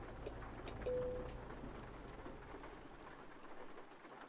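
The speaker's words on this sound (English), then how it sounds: "this rain is going to probably be the death of us" Dense, continuous rain pours in the American Truck Simulator game, a broad steady hiss with a soft rumble of thunder swelling briefly near the start, no voices.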